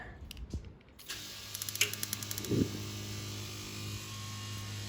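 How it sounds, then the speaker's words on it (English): A portable gas camping shower heater clicking on, a quick series of small ratcheting igniter clicks followed by a soft whoosh, close and fairly quiet over a steady hum. "And then grab your hose and you'll hear it click on if you listen."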